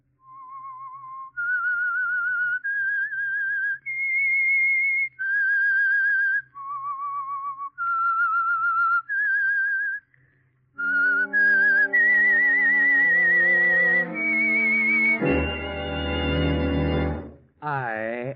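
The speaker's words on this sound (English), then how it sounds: "That whistle is your signal for the Signal Oil Program" Whistled theme tune of The Whistler radio show: a clear solo whistle carries a slow, eerie melody of sustained notes with short gaps, then an orchestra swells in and takes over.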